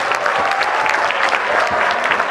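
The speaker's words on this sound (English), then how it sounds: "So clap for yourself." A crowd claps steadily, dense applause filling the whole stretch without pause.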